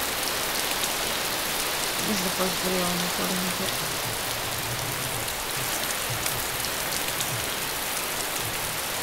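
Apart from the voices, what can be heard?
rain falling in video game DayZ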